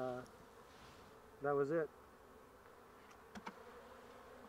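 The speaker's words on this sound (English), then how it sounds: "you can see the mass of bees, and this is what's heartbreaking for a beekeeper." Honeybees in an opened beehive during an inspection, a faint steady buzz of the mass of bees on the frames, broken by a brief voiced remark partway through.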